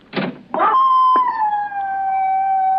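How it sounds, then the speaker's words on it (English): A dog in a radio drama howls, long sustained wavering cries that slowly fall in pitch, preceded by a couple of short rough barks, loud and close with no talking. "Why don't you complain to the neighbors about that dog?"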